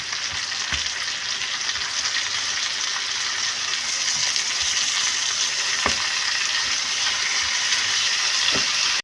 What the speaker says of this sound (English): Put your onions on the pan. Make sure your patty and onions don't burn.